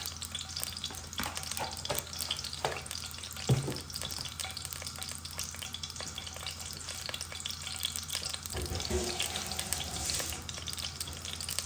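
Cumin seeds frying in hot oil while cooking chana at home, a steady close sizzle with stirring scrapes and occasional clinks, no voices.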